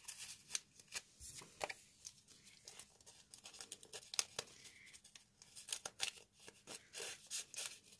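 A sheet of white paper is handled close by, with quiet irregular rustles, taps and crinkles scattered throughout and no speech.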